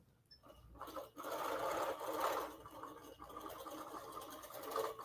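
A long arm quilting sewing machine stitches fabric, giving a continuous close mechanical whirr with a rapid buzzing stitch rhythm that swells and eases slightly as the fabric is guided around.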